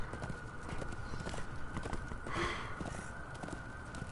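A zombie horse galloping in Darksiders 2, rapid rhythmic hooves thudding close up against a constant humming game backdrop, with a short whoosh midway.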